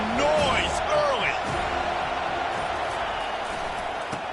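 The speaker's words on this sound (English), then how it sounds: "This crowd bringing the energy and noise early." A stadium crowd at an American football game roars in a dense, steady wash of noise that stays loud throughout, with a commentator's voice over it.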